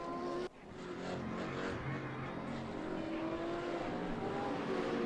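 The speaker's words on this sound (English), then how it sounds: "The engine is still running." Race car engine running steadily at a GTR3 endurance race at the Sachsenring, a continuous loud drone with sustained harmonic tones after a brief drop at the start, no talking.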